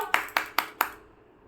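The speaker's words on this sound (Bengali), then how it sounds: "হাততালি দাও" Four crisp hand claps in an even rhythm, close and clear, each ringing briefly before silence.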